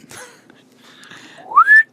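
A person whistles up close: faint breathy tones first, then a single clear note that rises and holds briefly before cutting off.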